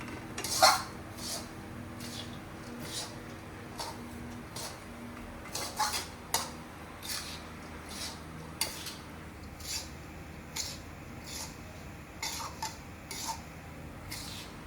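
Gundar pak being stirred in a metal pot, with a steady run of clinks and scrapes from a spoon against the pot rim, close and moderately loud, with no talking.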